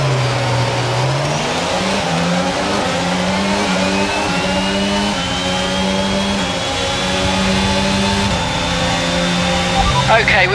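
A Formula 1 car screams around the track in F1 22 at the Spanish Grand Prix in career mode. The loud, close engine climbs through repeated gear upshifts in a stepping rhythm, with a brief drop and recovery near the end.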